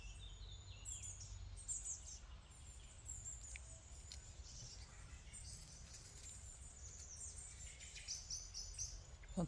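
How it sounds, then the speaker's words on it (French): A common blackbird sings outdoors in a calm setting. Its whistled phrases and chirps repeat through the clip over a steady low background hum, with other faint bird calls mixed in. "Vous entendez, ça c'est le merle."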